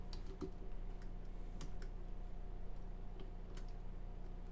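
Faint, sparse clicks of keys being typed on a computer keyboard, scattered irregular taps over a steady low hum.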